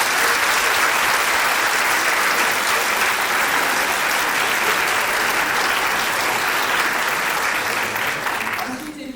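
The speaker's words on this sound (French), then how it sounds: "je voudrais s'il vous plaît des applaudissements pour la Corpo" A lecture hall audience at a university conference applauds a student association, with loud, dense and continuous clapping that holds for nearly ten seconds before beginning to fade at the end.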